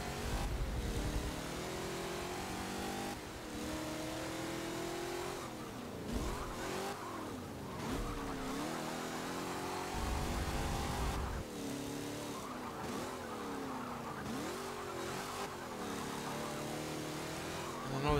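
A car in the Forza Motorsport 7 racing game skids and slides, with a continuous revving engine that repeatedly rises and drops through gear changes and squealing tires, loud and steady, with some voice underneath.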